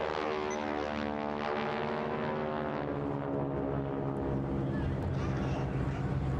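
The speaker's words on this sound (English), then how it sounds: "Now there's a fantastic roar to these engines, and that's because these are also Pratt & Whitney Wasps" Pratt & Whitney Wasp radial aircraft engines roar in a steady, continuous drone during a formation flight at an air festival display, with a voice faintly present over the engine noise.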